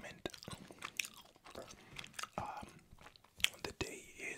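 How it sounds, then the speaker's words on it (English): Dentyne Ice Sub-Zero Iceberg Mint gum being chewed close to the microphone, with soft wet clicks and smacks in an irregular rhythm and faint whispering in between. "we're chewing on Dentine Ice"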